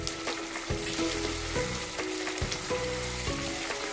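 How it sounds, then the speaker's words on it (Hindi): Chicken changezi frying and being sautéed in a pan, a loud constant sizzle broken by repeated rhythmic scraping strokes of stirring, close up and with no talk. "अच्छे से बस आपने इसको फ्राई करना है, अच्छे से इसकी भुनाई करनी है।"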